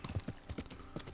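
Horse hooves clip-clopping in the medieval game Kingdom Come: Deliverance, a quick run of distinct, close hoof strikes with an uneven rhythm and no talk over them.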